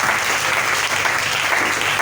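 A church congregation applauds steadily and fairly loud, a dense wash of clapping with no talk over it.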